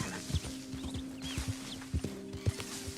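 Horse hooves clip-clop in a steady rhythm while riding in the video game The Last of Us, with a low musical hum underneath; the hoof beats are moderately close and there is no talking.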